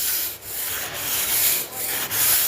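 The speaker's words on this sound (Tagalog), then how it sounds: "Ganda ba yung nabili nating steel brush? Ayan lang oh, ganito." Steel brush scrubbing moss off a surface outdoors, rough rhythmic scraping strokes with brief pauses between passes, close and moderately loud.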